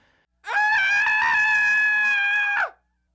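A man screams in terror, a single sustained high-pitched scream lasting about two seconds, loud and close, starting and stopping abruptly against near silence, used as a horror story sound effect.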